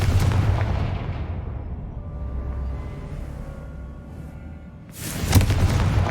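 Confringo blasting spell detonating in the Hogwarts Legacy video game: a loud, booming explosion that rumbles and fades over several seconds, followed by a second sharp blast near the end.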